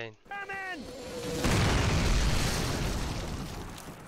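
Mortar fire in the 2003 Call of Duty game: a short voice at the start, then a heavy, rumbling explosion that swells and slowly fades.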